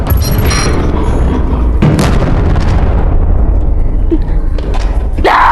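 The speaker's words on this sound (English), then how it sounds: "Grenade!" A grenade goes off in the video game Animal Company with a loud, booming blast and heavy low rumble, followed by a long rolling decay; voices briefly talk over it near the end.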